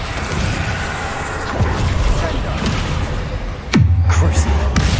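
Confringo fire spell blasts in Hogwarts Legacy, a loud booming hit with a low rumbling tail amid busy combat noise and a voice talking underneath.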